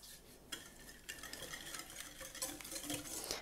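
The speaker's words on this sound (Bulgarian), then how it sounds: "Бъркам с телена бъркалка." A wire whisk stirs eggs and sugar in a bowl for caramel muffins, a steady scraping, clinking rhythm that runs near and fairly loud throughout with no talking.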